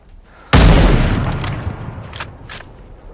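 A single loud gunshot from a Gatling soldier in Super People, hitting sharply and then rolling off into a long fading boom, with faint scattered noises in the tail.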